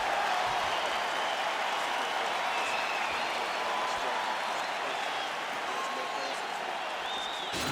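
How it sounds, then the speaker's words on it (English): Crowd applause and murmur fill a UFC video game arena on PS5 after a welterweight round, a steady wash of clapping and crowd noise at moderate level, with a faint commentator voice beneath. "So the crowd voicing its appreciation after that round."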